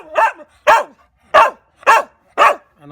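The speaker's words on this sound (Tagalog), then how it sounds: "May sinasabi ang aking aso." A dog barks five times in a steady rhythm, loud and close, each bark short and sharp.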